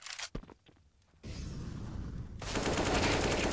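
Pistol gunfire in Counter-Strike on Dust 2, a few sharp shots near the start, a quiet pause, then a dense burst of rapid, continuous firing that builds and grows louder.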